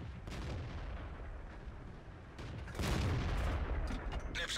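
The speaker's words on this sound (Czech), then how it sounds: "Nepřátelský tank zničen." Tank gunfire and a heavy impact as an enemy tank is hit and destroyed in the World of Tanks video game, with an M18 Hellcat in play; dense booming blasts roll continuously, swelling louder in the second half.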